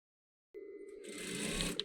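A sewing machine stitches along a fabric crease on a drawstring duffle bag pocket, starting after a moment of silence and running as a steady, close mechanical whir with no talking.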